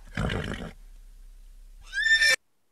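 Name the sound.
horse neighing, free online sample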